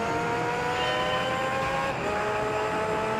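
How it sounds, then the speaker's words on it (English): Steady car engine drone from the Gran Turismo 3 racing game, a sustained tonal whine with harmonics that holds level and shifts pitch slightly near the two-second mark, loud and continuous with no voices. "Good old Yoshi engine noise"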